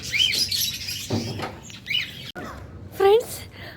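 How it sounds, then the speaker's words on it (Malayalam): Small birds chirp and tweet in short bursts among a yard of chickens and a parrot, with bright calls at the start and a louder chirp near the end, mixed with other background sounds. "പിന്നെ ഒരുപാട് കിളികളുണ്ട്."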